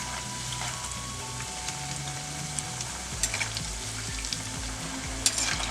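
Dosa batter snack deep-frying in a pan of oil, a continuous close sizzle and bubbling crackle with a few louder pops, no voices.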